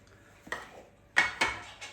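Minced pork faggot mixture being pushed to one side of a bowl with a utensil, giving a few sharp clinks and scrapes against the bowl, close and alone with no talk.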